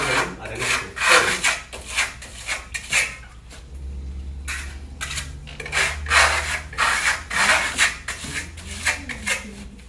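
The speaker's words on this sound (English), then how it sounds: "So this is what we call the saw trowel." A saw trowel rubs and scrapes a sandy, textured wall-finish product across a wall in repeated close strokes, a gritty rasping rhythm with short pauses between passes.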